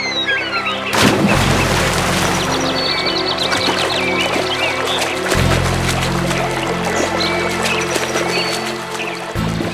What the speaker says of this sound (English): Out of his new habit, the horse purposely fell into the river